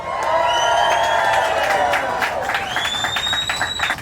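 A large crowd cheers, whoops and claps at a White Castle grand opening in Orlando, a dense, loud wash of voices and applause that holds steady throughout.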